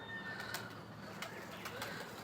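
Pigeons coo softly inside a loft, faint, low murmuring calls over a quiet background broken by a few sharp little clicks and rustles.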